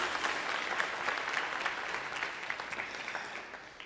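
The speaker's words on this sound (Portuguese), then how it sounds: "Aplauda o Senhor por isso, irmão." A church congregation applauds during a worship service, steady dense clapping that holds at an even level for several seconds with no voices rising above it.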